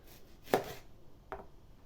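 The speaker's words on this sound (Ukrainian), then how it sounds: "порізали всю цибульку" An onion is chopped with a knife while preparing a simple potato and salo lunch, giving two sharp, separate blade strikes against the board, the first louder than the second, with no talk.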